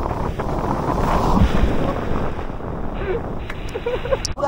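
Rough monsoon sea at Dublagadi beach, a continuous loud roar of crashing surf mixed with heavy wind buffeting the microphone, with brief faint voices in the background.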